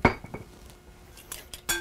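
A fork or whisk clinks against a bowl while eggs with a tablespoon of olive oil are beaten for pasta dough, a few scattered close metallic taps and scrapes with quiet gaps between them.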